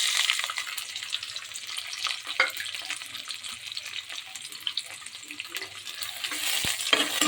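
Crushed garlic and onion fry in ghee in a pan for mutton leg soup, giving a continuous crackling sizzle with scattered sharp pops and occasional stirring scrapes, close and moderately loud.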